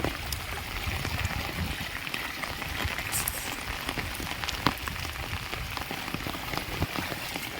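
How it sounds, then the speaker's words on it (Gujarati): Steady, dense rain pours down without pause, a continuous hiss with scattered sharper drops and splashes throughout. "વરસાદ સારો આવ્યો"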